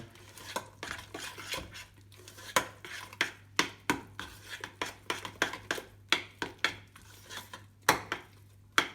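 A utensil scrapes and clinks against a bowl in quick, irregular strokes, close by, as thick chickpea paste and spices are stirred and mashed into hummus.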